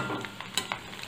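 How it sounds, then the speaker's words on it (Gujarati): Bhungla crisps frying in hot oil, a soft continuous sizzle with a few brief crackling bursts, close and fairly quiet, with no talking. "આમ આપણે બધા ભૂંગળા તળી લઈશું"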